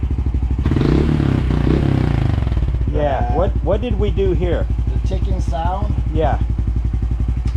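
A Honda CT125 motorcycle runs close by while its exhaust ticks and rubs against the bike, giving a steady engine drone with rattly clatter. Someone talks over the second half.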